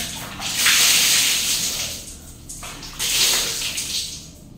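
Water poured over the body while bathing, in two loud gushing, splashing bursts separated by a short lull, close and unaccompanied by talk.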